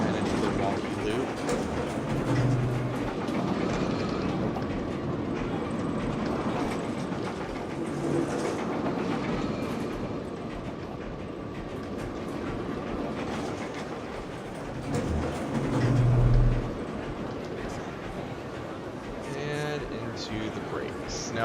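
A roller coaster train rolls along its track in the Planet Coaster game, a continuous rumbling clatter with a louder swell near the end, heard under intermittent talk.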